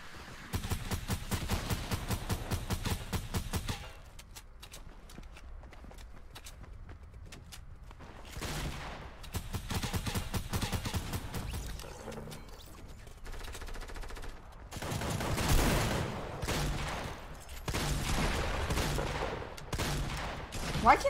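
Rapid bursts of gunfire in Fortnite Mobile, dense automatic volleys separated by quieter gaps, with a few louder shots near the end and a voice talking over them at times.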